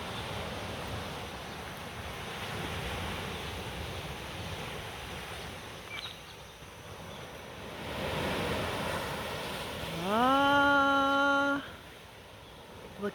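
Surf washing onto the beach at Drake Bay, Costa Rica at first light, a steady broadband wash with swells of louder breaking, joined near the end by a brief rising tonal whine.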